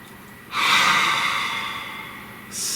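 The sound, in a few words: deep breath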